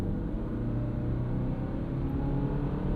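A 2024 Subaru Crosstrek Wilderness engine under acceleration on a morning commute, heard from inside the cabin: a steady low droning hum with road rumble, continuous and fairly loud, without a clear rise in pitch.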